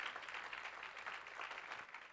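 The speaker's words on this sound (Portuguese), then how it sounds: "aplauda bem forte ao Senhor no nome de Jesus" A church congregation claps and applauds loudly and steadily, a dense wash of hands filling the room without a break, with no words spoken over it.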